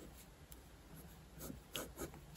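Pencil drawing on paper, heard as faint, close scratchy strokes in short bursts and sweeps, quiet and without talk.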